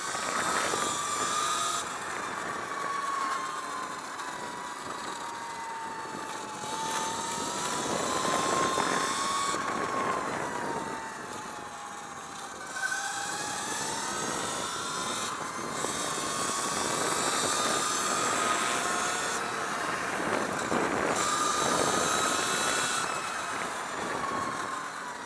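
Sur Ron Light Bee electric dirt bike riding around a short asphalt kart track, a continuous whining motor tone rising and falling with the throttle, steady and fairly close, with wind rush.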